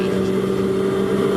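A Mazda MX-5 race car engine roars steadily at high revs under full acceleration at Silverstone's Woodcote corner, a loud sustained drone with a strong tonal hum, close and continuous throughout.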